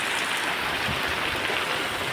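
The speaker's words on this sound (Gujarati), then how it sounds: "વરસાદ જો" Monsoon rain falls in a Gujarat village in June as a dense, constant hiss of water close by, uninterrupted and without voices.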